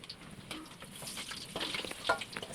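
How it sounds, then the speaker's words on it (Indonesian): Perkedel, Indonesian potato fritters, fry in oil in a pan, giving a steady low crackle and sizzle with occasional stirring scrapes, soft and close. "tapi nggak apa-apa, kita lanjut goreng lagi"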